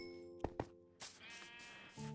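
Sheep bleating in the Minecraft video game: two short, close bleats in quick succession, followed by a longer bleat with a clear harmonic tone, then another brief call at the end.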